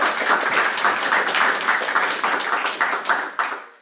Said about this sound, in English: a final round of applause for Lauren, please